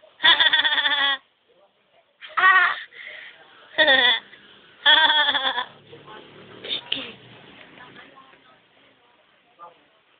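A voice imitates a goat bleating, several loud wavering "meh" calls in a row, close up and separated by short pauses, with softer vocal sounds between them.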